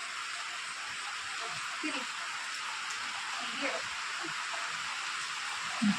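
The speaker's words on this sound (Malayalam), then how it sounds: "മഴ കൂടുന്നു" Steady rain hisses throughout, a constant wash of falling drops with faint scattered sounds underneath.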